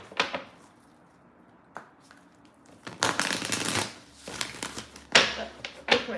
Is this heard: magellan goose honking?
no